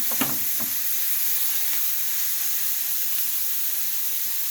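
Tiny prawns (karandi) sautéing in a pan for a Goan Saraswat dish make a steady, hissing sizzle throughout, with a couple of brief stirring scrapes near the start, close and moderately loud.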